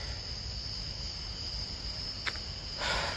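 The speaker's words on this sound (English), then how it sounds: "I hear the crickets." Crickets chirp at sunset in a continuous, fairly faint high trill that runs unbroken, with a short rustle near the end.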